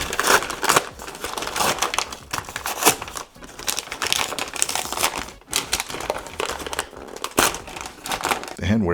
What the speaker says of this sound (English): You just tear right into it.